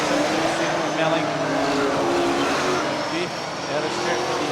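Saloon race cars roar around a speedway dirt track, several engines overlapping and revving as they pass, loud and near, with a commentator talking over them throughout.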